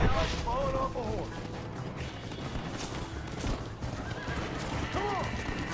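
In the Red Dead Redemption game, a horse whinnies clearly twice, once early and once near the end, over clip-clopping hooves and busy game action with distant gunfire.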